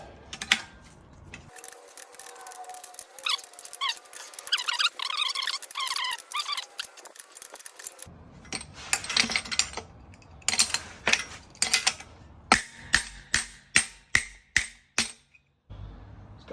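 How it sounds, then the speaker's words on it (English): Wrenching on a rusty engine cylinder in a workshop, with scraping and rattling metal early on, then a series of sharp, close metallic clicks and knocks that come faster toward the end. "And start wrenching."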